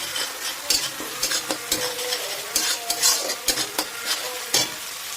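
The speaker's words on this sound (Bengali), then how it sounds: "ওই ক্রাশ করে রাখা আদা রসুন লঙ্কা তিনটি এর মধ্যে দিয়ে একটু ভালো করে প্রথমে ভেজে নিতে হবে" Crushed ginger, garlic and green chili fry in oil while a spoon stirs them briskly, sharp repeated scrapes over a steady sizzle, close and fairly loud.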